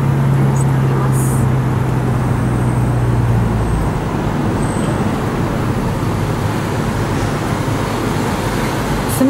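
Steady road and engine rumble from a Porsche 911 Cabriolet driving through busy city traffic, loud and continuous, with wind and passing-vehicle noise around the open car.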